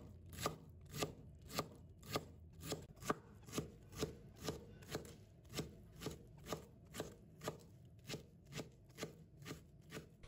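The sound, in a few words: chopping blanched Indian lettuce on a cutting board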